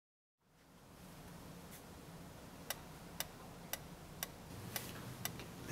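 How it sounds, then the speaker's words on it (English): A metronome ticking at a steady, even pace, seven or eight sharp clicks over a soft hiss of room noise, close and alone with no talk. "Listen to the ticking of the metronome."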